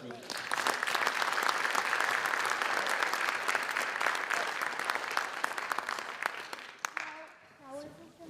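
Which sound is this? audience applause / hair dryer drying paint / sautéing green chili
audience applause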